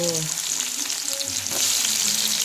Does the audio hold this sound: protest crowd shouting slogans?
no